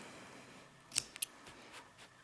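Scissors snip the yarn ends of a finished crochet scarf set: two quick, crisp cuts close together, up close and fairly quiet, with faint handling after and no talk.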